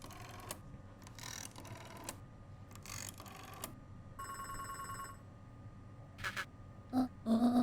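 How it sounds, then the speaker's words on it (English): Telephone ringing in the video game Beacon Pines, a series of short electronic rings and chirps separated by pauses, faint to moderate over quiet game sounds. "phone call."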